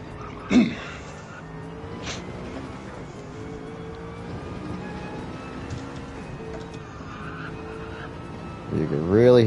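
A race car in the NVR IROC sim racing series at Watkins Glen works through the esses, engine note and throttle rising and falling with brief tire squeals, a sharp burst near the start and a louder surge at the end, while a commentator talks.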